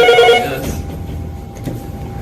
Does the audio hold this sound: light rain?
no